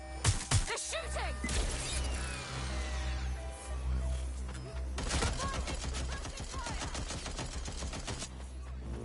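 Watch Dogs Legion gunfire during a police chase: rapid repeated shots and crashing impacts over a steady low vehicle rumble, with bursts clustered early and again mid-clip, and a voice briefly underneath.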